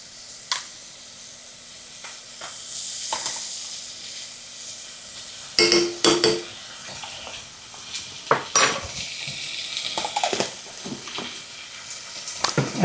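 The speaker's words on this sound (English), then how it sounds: "Next, I'm going to add some garlic to it, and I'm using minced garlic" Minced garlic hits a hot pan with a steady sizzle, broken by clanks and scrapes of a utensil against the metal pan as it is stirred, close and clear with no voices.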